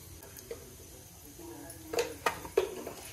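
Mustard and cumin seeds hit hot oil, giving a few faint, sharp crackles and pops over a quiet, low background.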